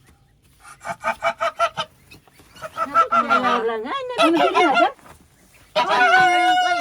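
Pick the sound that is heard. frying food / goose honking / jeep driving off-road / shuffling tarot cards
goose honking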